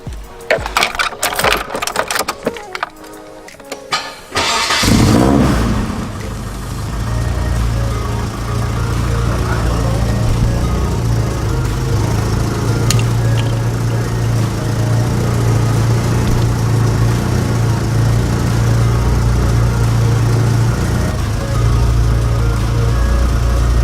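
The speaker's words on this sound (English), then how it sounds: "let's turn the car on." A Nissan 240SX cranks several times with a rapid starter whir, catches and fires up, then settles into a steady, slightly rough idle that drones on close by with a low rumble.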